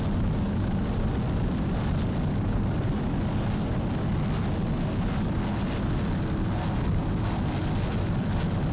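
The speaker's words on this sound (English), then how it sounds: "Reggie Fountain is aboard that helicopter right there." Helicopter flying over a powerboat race at the 2003 Super Boat Grand Prix in Miami, with a loud, continuous rotor and engine roar mixed with rushing wind and boat engine noise.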